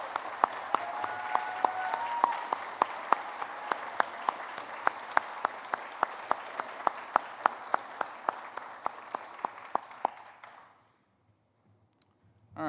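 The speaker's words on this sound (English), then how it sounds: "Let's give our class of 103 a round of applause." An audience at a fire department recruit class graduation gives a round of applause for the graduating class, with steady, fairly close clapping that sustains for about ten seconds and then stops abruptly into near silence.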